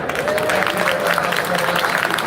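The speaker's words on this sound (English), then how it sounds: "we'll applause for all of our members here, panelists" Applause from an audience at a Little Saigon 50th anniversary event with panelists, steady clapping filling the room throughout, with faint murmuring voices mixed underneath.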